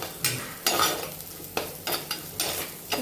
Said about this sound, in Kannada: ಈರುಳ್ಳಿ, ಬೆಳ್ಳುಳ್ಳಿ, ಮೆಣಸಿನ್ಕಾಯಿ ಹಾಕ್ಕೊಂಡು ಚೆನ್ನಾಗಿ ಫ್ರೈ ಮಾಡ್ತೀನಿ